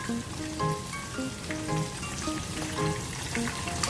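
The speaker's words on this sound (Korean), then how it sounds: "치킨을 튀기고 있습니다" Steady crackling sizzle of food frying in hot oil, continuous throughout, with faint tonal beeps sounding over it.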